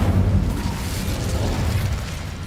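A fire spell bursts out in the Hogwarts Legacy game, a dense, loud roaring whoosh of flame that fills the space and holds steady for a couple of seconds.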